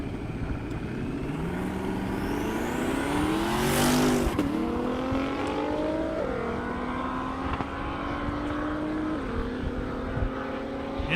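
A 1600-horsepower Camaro and a GTR drag race down an airstrip at over 200 mph: engine whine climbs steadily to a loud roaring peak as they pass, then drops through gear shifts and fades into the distance.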